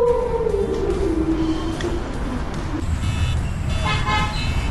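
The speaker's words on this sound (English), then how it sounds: "The train guy honked at me." A small train's tonal horn blast at Currumbin Wildlife Sanctuary sounds over steady rumbling traffic noise, its pitch sliding downward, followed later by a brighter chiming tone.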